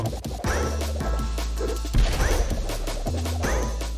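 Glass smashing in the video game Orbo's Odyssey, with several loud, sharp crash-and-thwack impacts at uneven intervals over bouncy game music and sound effects.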